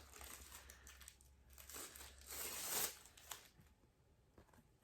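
Quiet crinkling and rustling of a plastic wrapper being torn open on a package of thin sanitary pads, soft and close, with a brief louder crackle midway and no talking.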